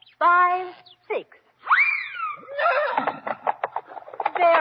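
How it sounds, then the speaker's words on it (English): Horses neighing as a radio drama sound effect for six dancing white horses, several loud close whinnies in quick succession with sharp rising and falling cries, separated by brief gaps. "There are your 6 dancing white horses."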